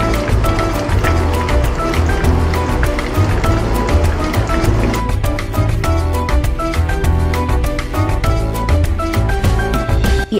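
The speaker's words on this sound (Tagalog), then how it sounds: "Dahan-dahang ilagay sa mantika at tutuin hanggang mag-golden brown." Vegetables coated in breadcrumbs fry in hot oil for tempura, a dense, steady sizzle and crackle close by, with a repeated clicking rhythm over it throughout.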